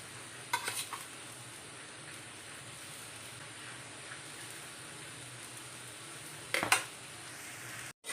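Bitter gourd and onion cook in a pan with a low, steady sizzle. Two brief bursts of clattering stirring and a final knock stand out against it.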